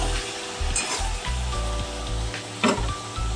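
Spice paste hits oil in a pan of chicken cooked down with salt, turmeric, tomato and onion, crackling and sizzling with some stirring and scraping clatter, a louder burst near the end, no voices.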